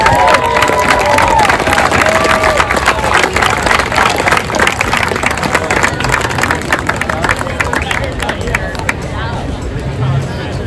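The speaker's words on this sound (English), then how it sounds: "let's give them all one more round of applause" A crowd at a local surf contest memorial event applauds and cheers, dense sustained clapping with whoops and shouts, loud and close, with an announcer's voice heard at the start.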